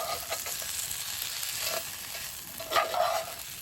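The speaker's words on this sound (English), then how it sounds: "Stir it up a little bit." Brunch being stirred in a frying pan, with a steady close sizzle and scraping stir strokes that swell briefly near the end.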